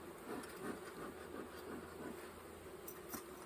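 Honey bees in a crowded seven-frame hive, buzzing as a faint, steady drone that holds without a break in a quiet setting.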